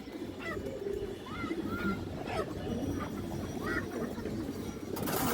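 Khaki Muslodom pigeons coo softly in a loft, with several brief rising calls over a steady background murmur.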